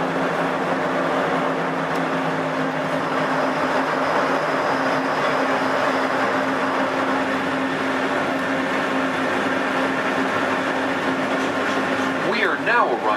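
Disneyland Resort monorail rolling into Downtown Disney Station, a steady loud rumble and hum from inside the car throughout, with a recorded announcement over it and a brief squeal near the end.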